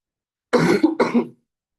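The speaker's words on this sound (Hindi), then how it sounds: "मुझे थोड़ा फीवर है, इसकी वजह से खांसी आ रही बीच में" A person with a fever coughs twice in quick succession, close and loud, then falls silent.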